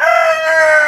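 A rooster crows in one loud, sustained, close call that fills the whole brief moment.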